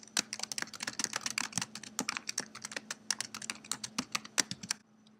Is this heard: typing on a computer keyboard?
yes